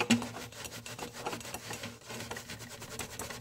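Continuous close scrubbing of a stain using Enjo marble paste and washing-up soap, a rough back-and-forth rubbing that keeps going without pause and without talking.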